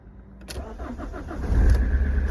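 A car engine cranks briefly and then catches, settling into a louder, steady running rumble that swells toward the end, close and with no one talking.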